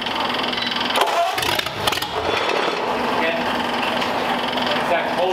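1937 Ford Flathead engine with major issues idling unevenly, a rough, rattling mechanical drone with a couple of sharp bursts near the start, heard close up under occasional voices.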